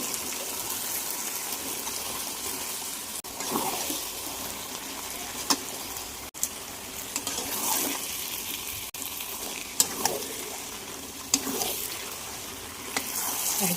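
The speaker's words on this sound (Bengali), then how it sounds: "আর এই যে মাংস, মশলা কষা হয়ে গেছে। মাংসটা ঢেলে দিই টক দই দিয়ে।" Meat with spices and yogurt sizzling and frying steadily in a pan, a continuous close crackle with occasional sharper pops and clicks, and no voices.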